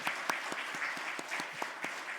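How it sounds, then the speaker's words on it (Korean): A church congregation applauds the choir during a Sunday morning service with steady, moderately quiet clapping from many hands. Individual claps stand out against the general patter, and no voices are heard. "우리 찬양대와 또 하나님께 영광의 박수를 한 번 더 돌려드리죠."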